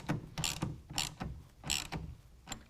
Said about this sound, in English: I can go ahead and finish tightening down the clamp